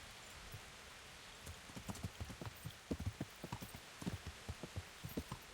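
Horse hooves clip-clop in a quick, uneven galloping rhythm in the video game Kingdom Come: Deliverance, fairly soft, over a light hiss of background noise.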